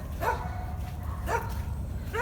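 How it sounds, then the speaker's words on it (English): Several dogs barking, three short barks spaced out over a steady background hum, somewhat distant. "All the dogs are barking."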